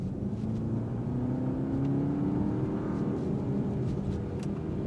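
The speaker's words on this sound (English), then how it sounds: "slow it down a little bit and floor it" A 2026 BMW 530i sedan with a turbo engine and 48-volt mild hybrid accelerating at full throttle from a rolling start, a steady loud drone whose pitch climbs smoothly as the car speeds up, heard from inside the cabin without talk.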